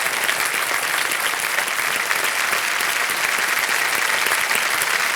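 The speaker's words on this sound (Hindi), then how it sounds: "और जोरदार तालियां बज जाए इनके लिए" A KBC studio audience breaks into loud, sustained applause for a game show contestant, a thick, even wash of clapping that stays steady and close throughout with no talk.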